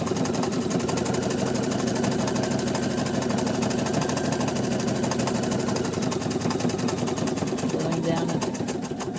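A sewing machine satin stitching an angel appliqué runs steadily and loudly, its rapid needle chatter continuous and close throughout.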